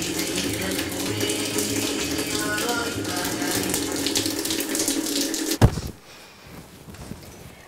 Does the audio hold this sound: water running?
yes